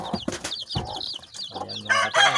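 Chirping and clucking of pet chicks and a hen around feed, close and lively, with short high peeps at first and fuller clucks toward the end.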